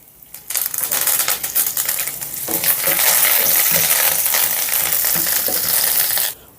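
Loud, crackling sizzle as cumin seeds, dried red chillies and curry leaves hit hot oil, bursting in suddenly and spitting continuously for several seconds before cutting off.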